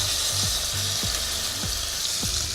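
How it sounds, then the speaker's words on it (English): Quail browns in a hot pan with a loud, continuous sizzle and crackle of fat, broken by a few low thuds and scrapes of movement, and no talking. "now we're gonna get going with browning"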